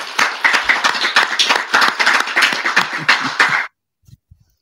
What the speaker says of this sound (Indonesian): yuk tepuk tangan dulu buat Kiai Haji Imaduddin Utsman